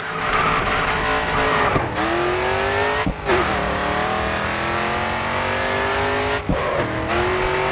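A race car in the racing game Grid 2 drifts through corners, its engine droning loudly while the tires skid and squeal, with a couple of sharp gear shifts that drop the engine pitch.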